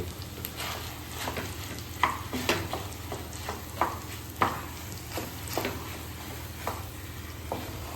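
Lentils for Gujarati vedmi are stirred and mixed in a pan, with a spoon scraping and knocking in an irregular rhythm over a soft steady sizzle, close and fairly quiet.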